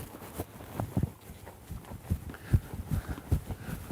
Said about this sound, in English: you can hear him kind of grunting and groaning